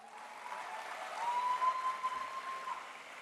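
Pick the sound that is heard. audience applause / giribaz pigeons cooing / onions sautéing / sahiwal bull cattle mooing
audience applause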